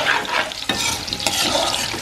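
Potatoes fry in a pan in a rural home kitchen, with a continuous sizzle and a few sharp scraping stirs, close and fairly loud, with no talking.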